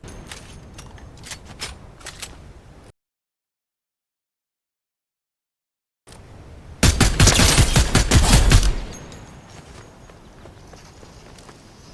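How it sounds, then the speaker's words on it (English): Assault rifle gun battle in the shooter game Fortnite, with crackling bursts of rapid fire cut by a stretch of total silence, then a loud, sustained volley of shots before fading to quieter noise. "Ultimately, I have to rely on my normal assault rifle to end the gun battle."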